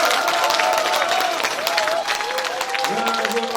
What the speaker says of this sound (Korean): 다시 한번 뜨거운 박수 완전 부탁드립니다